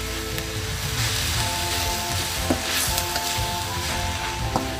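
Sliced cabbage sizzling in a hot pan as reduced short-rib marinade is added, a loud continuous crackle and hiss with a few sharper spits and a faint stirring scrape.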